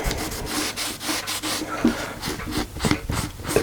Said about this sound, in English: we'll give it a little going over with the old rag.